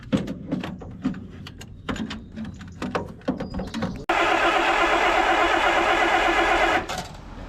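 A Land Rover engine with a newly fitted starter motor and the choke pulled cranks and catches, running loudly and steadily for about three seconds before cutting off, after a stretch of clunks and knocks.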